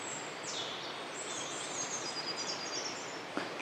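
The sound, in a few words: birdsong in trees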